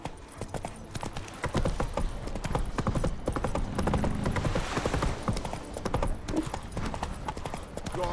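Roach, the horse in The Witcher 3, gallops in a rapid, steady clip-clop of hooves that grows louder after the first second and continues throughout, with faint game sounds in the background.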